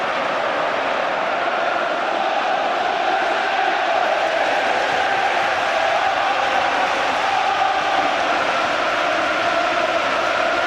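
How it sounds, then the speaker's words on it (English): Newcastle football crowd roaring in a packed stadium after a goal against Manchester United, a steady, dense wall of cheering that holds without pause. "The Newcastle crowd really did erupt when that goal went in"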